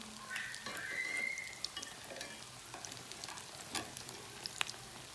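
Chicken bread pockets sizzling as they fry crisp in a pan, a steady crackle with a few louder pops and light scrapes of stirring, close and alone with no talk.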